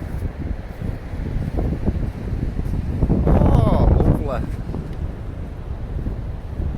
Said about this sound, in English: Bit windy.